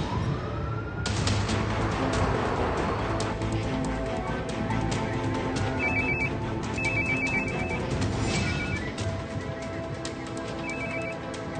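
A telephone rings in a dramatic TV series scene, a repeated electronic ringing tone in short bursts over a constant dense background, with no talk.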